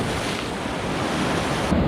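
Waves wash steadily into a small sea bay, a continuous close surf rush with wind buffeting the microphone throughout.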